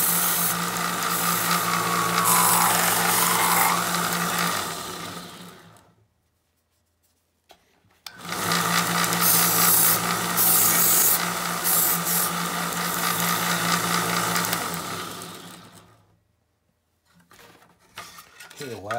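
A belt sander grinds a metal saxophone mouthpiece shank extension to clear nicks and glue, a steady loud whirring with grinding that runs for about five seconds, stops briefly, then runs again for several seconds before trailing off.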